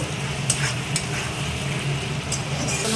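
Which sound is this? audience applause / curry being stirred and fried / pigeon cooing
curry being stirred and fried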